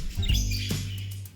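A female budgie near a cozy nesting pot gives a few short, close chirps and tweets over a low steady hum, brief and fairly faint.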